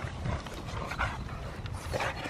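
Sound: dogs playing and panting

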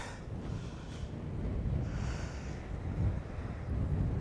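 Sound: wind blowing on a harbour walk

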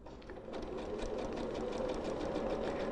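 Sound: sewing machine stitching boning close to the edge

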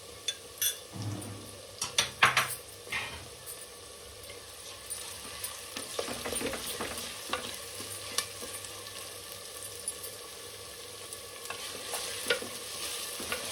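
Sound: frying ginger garlic paste in oil

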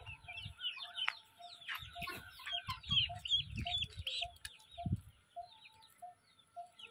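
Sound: chickens clucking

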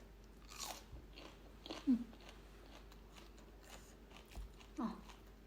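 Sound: chewing and crunching while eating long bean salad by hand

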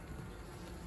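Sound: honeybees in a hive

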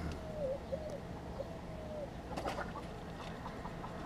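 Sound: birds in a chicken coop

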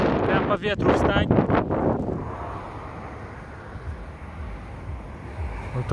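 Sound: wind

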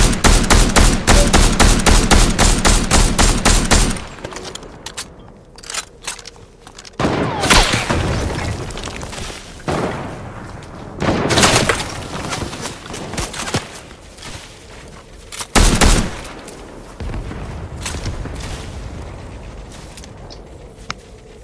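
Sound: sniper rifle shots and gunfire in video game Fortnite

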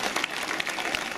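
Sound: crowd applause at Sachsenring Classic event

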